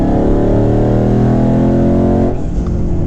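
A 2019 twin-turbo Ford Mustang engine pulls loud and close at light, partial throttle, its steady droning tone holding for about two seconds before easing off and shifting character near the end.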